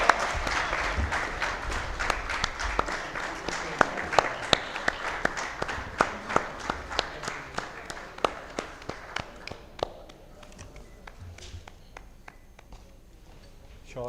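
Applause at an association's annual general meeting: many hands clapping with a rhythmic emphasis, fairly close, gradually thinning and fading out after about ten seconds.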